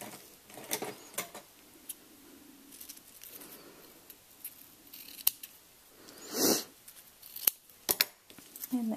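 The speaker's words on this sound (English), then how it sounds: "And then we're going to trim the edges here." Scissors snip along the edges of a handmade card in a quiet room, a few sharp, close cuts spaced irregularly, with a faint rustle of card between them.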